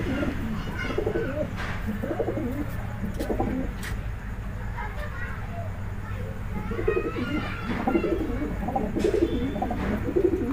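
A pigeon cooing close by in repeated soft throaty phrases, with rustling and other small birds chirping, plus scattered background noise.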